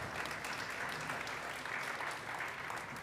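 Steady applause from a crowd, dense clapping that holds at an even level throughout.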